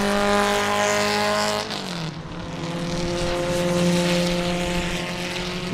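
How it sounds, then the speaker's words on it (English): A race car screams past on Sebring International Raceway, its high, steady engine note dropping sharply as it goes by, then a second engine drones on, loud and close with no talking. "Man, that car carries a lot of corner speed."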